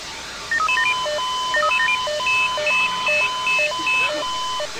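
Electronic alarm dialing tones in the firefighting game Emergency 4, a sequence of clear, loud beeping tone pairs played in a stepped melodic pattern, alone without talk.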